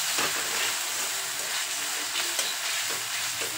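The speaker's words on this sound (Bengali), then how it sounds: "এখন এর মধ্যে দিয়ে দিচ্ছি টমেটো বাটা। টমেটোটাকেও খুব ভালো করে ভেজে নেব।" Tomato paste sizzles and fries in hot oil with ginger and garlic for a crab curry, giving a steady, close crackling hiss while it is stirred, with no talking.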